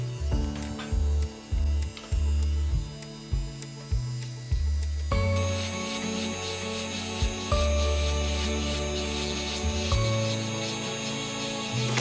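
A diamond point works the edges of a Valjoux 22 watch movement gear train bridge during hand bevelling, giving a steady close mechanical whir with rhythmic pulsing strokes and a continuous high whine, with no talking.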